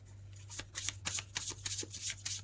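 Tarot cards being shuffled and drawn close by: soft rapid riffles and slaps of card on card in quick irregular bursts over a low steady hum, with no talking.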